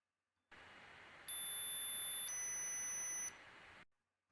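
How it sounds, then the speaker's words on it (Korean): Two steady electronic buzzer tones sound one after the other, each a high, piercing beep lasting about a second over faint hiss. "부저의 음과 함께 같이 들어보도록 하겠습니다."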